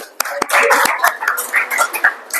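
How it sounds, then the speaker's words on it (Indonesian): A primary school class claps together in an Indonesian classroom, a brief burst of rhythmic hand claps mixed with children's voices and a teacher's talk. "Oke, tepuk tangan."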